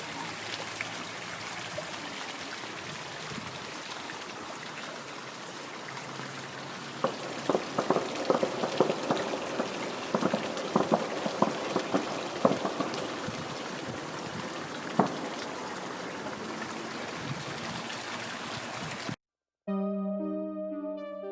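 Rain falling on a hike at the Rampestreken viewpoint in Norway, a steady broadband patter with scattered sharper drops and crackles throughout, close and continuous, with a brief cutoff near the end.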